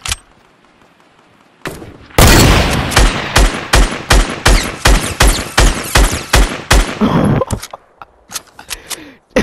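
SCAR rifle fire in a console video game, a long run of sharp, rapid shots in quick succession, loud and close, with a few scattered single shots trailing off at the end.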